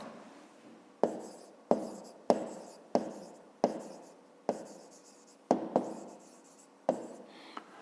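Someone writes by hand on paper, working a fifth-grade math exercise. A dozen or so short, scratchy strokes come in an uneven rhythm, close and quiet, with no talking.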